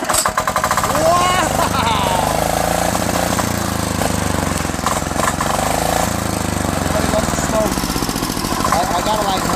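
A blown 25 HP Kohler V-twin engine on a Craftsman DYT4000 lawn tractor riding mower runs and idles with a loud, steady, pulsing drone, and someone talks over it.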